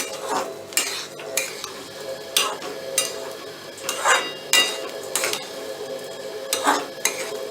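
Moong dal being dry-roasted in a pan over low heat for Ganesh Chaturthi laddoos, with a spoon scraping and stirring in steady repeated strokes, sharp clinks against the metal and a faint sizzle underneath, close and loud with no talk.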